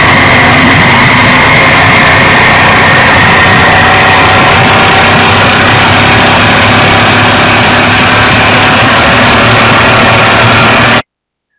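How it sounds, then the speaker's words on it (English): Outboard boat motor running steadily after starting and warming up before a crabbing trip on Netarts Bay, a loud continuous engine drone with a constant tone throughout, alone with no talk. "The motor starts up good, and so Kent's warming it up"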